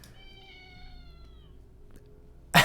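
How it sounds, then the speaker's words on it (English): A single drawn-out cat meow, falling in pitch, echoes in a cold, rain-dampened alley. It sounds quiet and somewhat distant, and a brief sharp noise cuts in at the very end. "Sounds like a cat to me."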